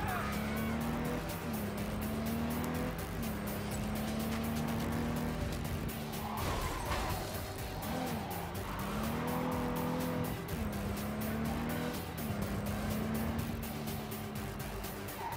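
Car driving in Cyberpunk 2077, with a loud continuous engine drone that rises and falls through repeated gear shifts and revs, plus occasional tire squeal, under a voice talking intermittently.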